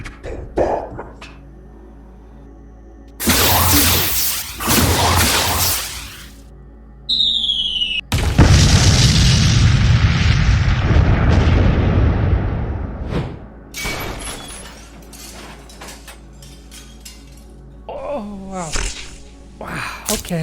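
Artillery bombardment in a video game sets off bursts of loud booming blasts with rumbling tails, separated by quieter gaps, with a player speaking in between.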